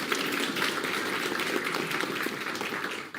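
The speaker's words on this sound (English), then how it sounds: "Please give them a round of applause." Audience applause at a pageant, a steady dense wash of many hands clapping from a sizeable crowd, holding level before thinning slightly at the end.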